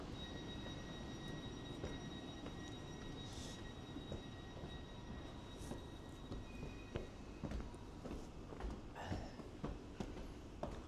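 A train pulling out of a station rumbles and clatters on the rails with a steady low roar, with faint rhythmic knocks toward the end, heard from the platform without talk.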